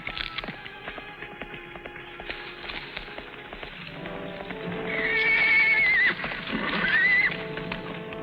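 A horse whinnies loudly twice near the end, after a stretch of steady hoof clip-clops over a dense background of music, with no talk.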